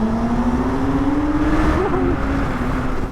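Two litre-class naked motorcycles, a Honda Hornet SP and a Suzuki GSX-S1000 in sport mode, accelerate hard from a rolling second-gear start, their engines droning loudly and steadily with a rising pitch and a brief wobble midway, and no talk.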